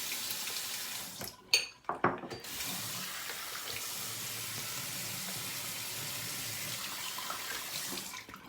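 Tap water running steadily into a sink while a face is re-wet for a shave, a close continuous hiss with a few splashes and clinks near the start.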